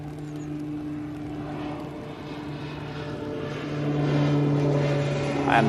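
A Beechcraft King Air propeller plane at Manchester Airport gives a steady droning engine hum with a sustained tone, moderately distant and growing a little louder toward the end.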